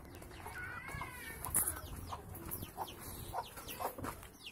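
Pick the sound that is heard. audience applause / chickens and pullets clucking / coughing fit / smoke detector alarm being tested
chickens and pullets clucking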